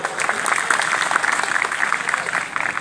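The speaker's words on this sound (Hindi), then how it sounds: "जोरदार तालियों से स्वागत।" Enthusiastic applause at a Republic Day celebration as a local legislator gives prizes to children, dense crowd clapping with sharp individual claps standing out, continuous and fairly loud throughout.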